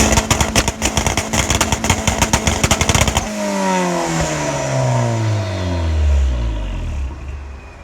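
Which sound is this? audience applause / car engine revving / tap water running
car engine revving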